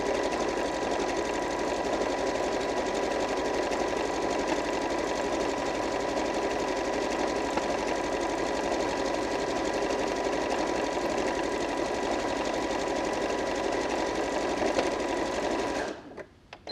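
A Janome QDC5270 sewing machine hems fabric in one long, steady, fast mechanical whir that runs unbroken and close, then stops abruptly at the end.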